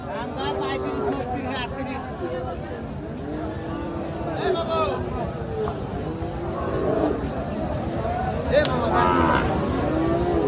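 Calves and cattle lowing at a busy livestock market, repeated moos rising over a dense crowd of voices and ongoing chatter close by.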